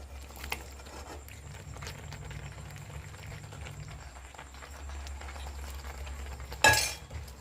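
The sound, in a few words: cooked pasta being added to melted cheese sauce in pan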